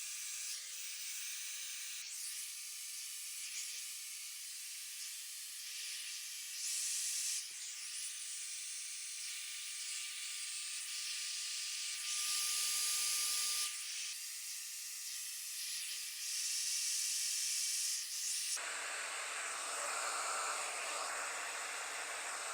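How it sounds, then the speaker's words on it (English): A hair dryer runs on high heat close by, drying the roots of curly hair in a continuous broadband whoosh. Airflow rises and dips as the dryer moves, then the tone shifts and thins near the end. "I'm going to be on high heat just to try to dry the roots a little bit first"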